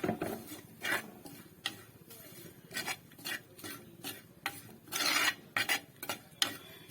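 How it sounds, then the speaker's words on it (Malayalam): Spices with turmeric powder being stirred and sautéed in a pan for a chili fish curry, a spoon scraping the pan in quick, irregular strokes, fairly faint and close, with no talking. "ഇനി നമുക്കിതെല്ലാം കൂടെ ഒന്ന് മൂപ്പിക്കാം."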